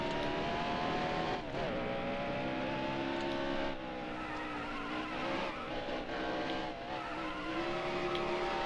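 NASCAR race car engine on a qualifying lap in NASCAR Heat Evolution, a loud steady high-revving drone whose pitch dips and climbs through corners, with no talking.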